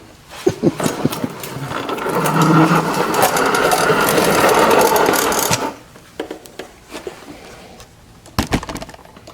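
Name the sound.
1982 Chevy Silverado C10 engine cranking and starting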